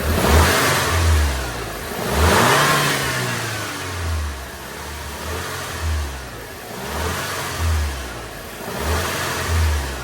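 A stock-intake Audi TT engine revs up repeatedly from idle, several rising and falling bursts of mid-pitched engine roar, fairly close and alone.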